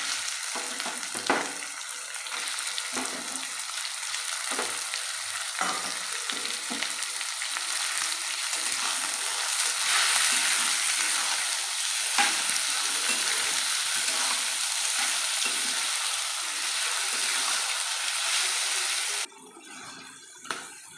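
Lote (Bombay duck) fish fried with lightly browned onions in a pan, giving a loud, steady sizzle that runs close and continuous with occasional stirring knocks, then cuts off sharply near the end.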